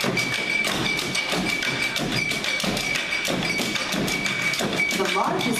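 Tamboo bamboo drums, large bamboo lengths thumped against the ground, pound out a dense, steady rhythm while someone talks over it.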